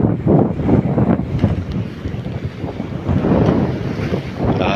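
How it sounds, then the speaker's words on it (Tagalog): Large ocean waves crash and surge continuously against a shore while strong wind buffets the microphone with a loud, steady rumble and no voices. "Malalaki ang alon ngayon dito sa amin."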